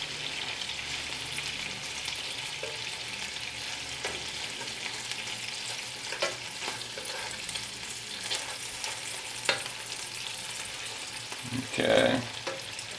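Spiced turkey meatballs fry in a pan with a steady, close sizzle, and a brief burst of clatter near the end as they are turned over. Nobody speaks.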